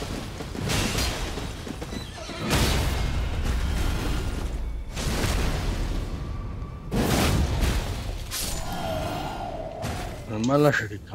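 Horse in the video game Elden Ring gives a neigh near the end, rising above repeated heavy booms and game effects, with a voice speaking over much of the scene.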